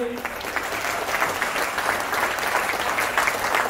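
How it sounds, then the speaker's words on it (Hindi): An award ceremony audience in a hotel hall breaks into loud, sustained applause, a dense wash of many hands clapping steadily throughout. "और एक बार जोरदार तालियां हो जाए सर के लिए"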